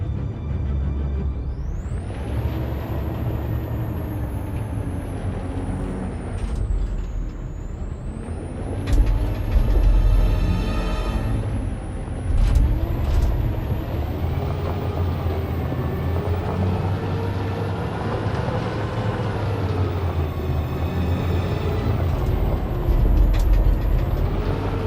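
Truck engine idling and rumbling in the video game Detroit: Become Human, a steady loud low drone with bursts of air brake hiss and shifting engine tones throughout, no talking.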